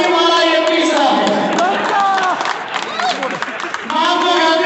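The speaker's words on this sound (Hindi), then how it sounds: "ये जो आप हंसे और ताली मारा, ये तीसरा है।" Audience at a sales-closing seminar claps and laughs together, a dense, loud crowd wash of applause and laughter that swells at the start and end, with a moment of chatter in between.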